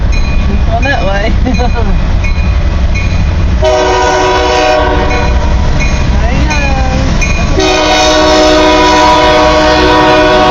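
A long CN freight train rolls past close by, its horn blaring in sustained blasts over a loud rumble of rail cars. Voices shout and cheer excitedly throughout.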